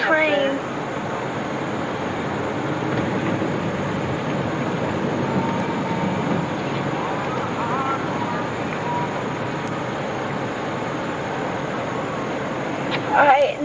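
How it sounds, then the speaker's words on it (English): A train rumbles past steadily in the background in Japan, a broad continuous roar with faint squeals, amid outdoor street ambience. "There's the train. There's a train."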